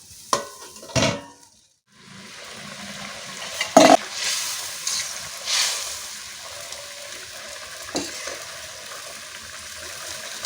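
Small koi fish frying in a pan for a brinjal curry: a soft sizzle runs under sharp bursts of utensil clatter and stirring, then settles into a quieter hiss.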